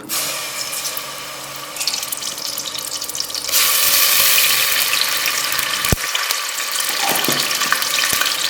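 Running water gives way to a louder, hissing sizzle as ginger garlic paste hits hot oil, with a few sharp clicks along the way.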